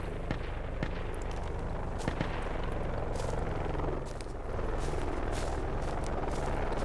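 A helicopter flies overhead in the military shooter game Project Reality, a steady loud rotor drone with sharp gunfire cracks scattered over it.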